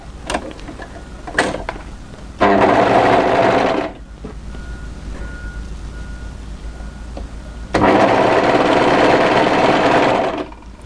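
A sewing machine sews an angled seam at the hem of a knit winter sweater in two loud, close bursts of a few seconds each, separated by a quieter stretch of handling.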